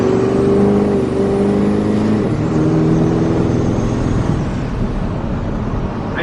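Built Duramax diesel pickup truck launching in two-wheel drive with boost, a steady loud engine roar and drivetrain whir that rises in pitch as it accelerates and fades slightly toward the end.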